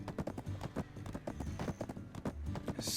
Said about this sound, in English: Get out of my way, I'm on a horse.